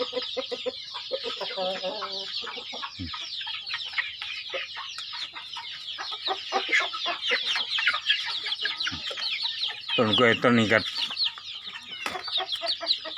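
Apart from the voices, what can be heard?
chickens clucking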